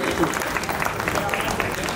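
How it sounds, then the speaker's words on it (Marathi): Audience applause at a housing society's annual day, a dense continuous clatter of many hands nearby, with voices talking over it. "सगळ्यांनी टाळ्या वाजून त्यांचं पहिल्यांदा अभिनंदन करावं रिअली."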